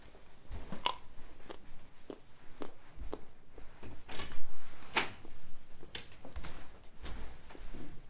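Someone crunching on a raw carrot, a series of sharp, irregular bites and snapping chews close to the ear, with softer mouth sounds between them.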